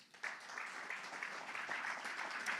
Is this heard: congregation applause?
yes